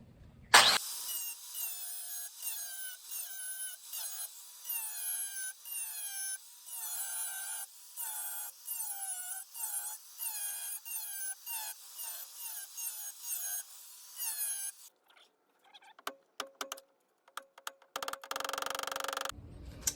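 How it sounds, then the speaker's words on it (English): An angle grinder cuts away the door latch rivets on a 1999–2007 Ford Super Duty extended cab truck in loud, whining bursts separated by short pauses, followed by scattered metallic knocks and clatter near the end. "and grind them away, and then peel the rivet off"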